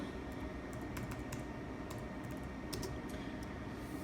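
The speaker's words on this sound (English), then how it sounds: "You can type, you just select the message, delete what's in there, type whatever you want." Quick, light clicks of typing on a Mac computer keyboard in an irregular rhythm, close but faint over a steady background hum.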